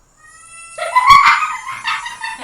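A person imitates a cat's meow with a voice, giving one drawn-out, whiny call that rises and then falls, clear and close, followed by a shorter second note.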